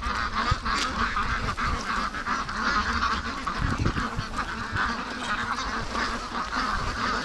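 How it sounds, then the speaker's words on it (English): Muscovy ducks call close by, a scattered run of low honks and quacks over faint outdoor background noise. "Come on, little Muscovies."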